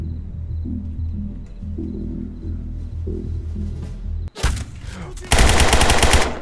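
Gunfire in the video game Zero Hour, where a low rumbling background with faint rhythmic tapping breaks into loud, close bursts of rapid automatic fire, with a sharp volley near the end.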